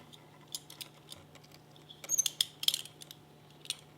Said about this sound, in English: you tighten it down using your Allens.